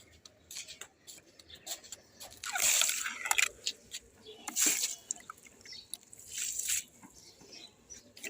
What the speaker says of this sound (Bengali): সবজি ধোয়া জলটা না ফেলে গাছে দিয়ে দিলাম